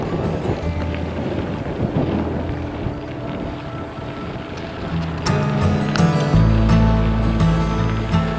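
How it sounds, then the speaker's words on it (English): Wind buffets a microphone in a steady rough roar during a gravel cycling race in Kansas, growing heavier and deeper toward the end with some rattling clicks. "it is windy"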